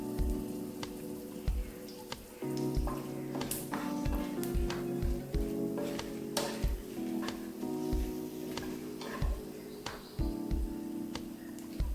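Ginger and garlic sauté in a pan for a North Indian paneer butter masala, a steady close sizzle with frequent sharp taps and scrapes of a spatula against the pan, fairly loud throughout.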